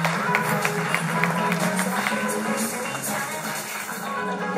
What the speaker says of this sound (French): Sous quelques applaudissements, Sylvie.